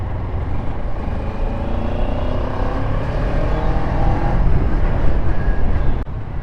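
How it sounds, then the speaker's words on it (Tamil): Road traffic around a Kawasaki Ninja 300 motorcycle on the move, a loud, steady drone of engines and tyre rumble filling the whole stretch with a slight swell toward the end, no talk. "டிராஃபிக்."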